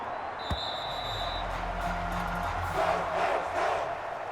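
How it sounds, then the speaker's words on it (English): Crowd noise from a home stadium crowd in Madden NFL 23, Packers at Bears, a steady roar of applause and cheering throughout, with a brief sharp thump near the start. "And the home crowd applauding."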